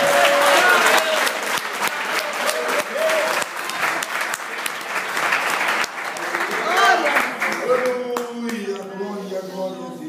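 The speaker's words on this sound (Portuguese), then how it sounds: "Você pode aplaudir a Jesus por causa da palavra?" A church congregation applauds during a Portuguese-language sermon, a loud, sustained roll of clapping with a few sharper individual claps, while voices call out over it and a sung or spoken tone rises near the end.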